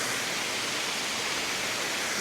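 Steady, loud broadband roar of a waterfall heard from near its base along a Georgia trail, continuous and unbroken for the whole stretch with no voices.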